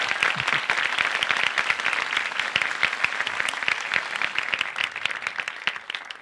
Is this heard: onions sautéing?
no